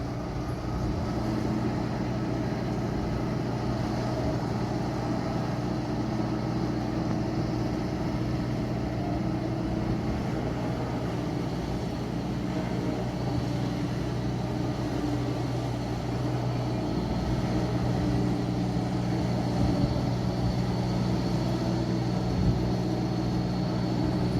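A tractor engine running in a field, a steady loud low drone with a constant even hum that holds unchanged for the whole stretch, close and without speech.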